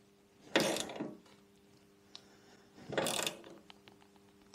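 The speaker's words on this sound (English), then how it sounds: "see if I can screw this through enough so that I can attach my nylock nut on the back side" A bolt is turned by hand to reach a nylock nut on a Lambretta scooter stand, with two short bursts of clicking ratchet-like rasping separated by quiet, close and fairly faint.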